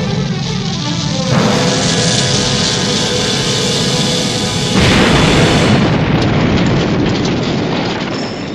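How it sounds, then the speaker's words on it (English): A missile blast in a Thunderbirds animated scene, heard as a loud, sustained roaring rumble that builds, holds heavily for several seconds, then eases off, with no talk over it. "A missile!"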